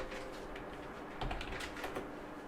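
Keys on a computer keyboard clatter in quick irregular bursts as a command is typed into a Windows 10 command prompt, close and moderately quiet, with no voices.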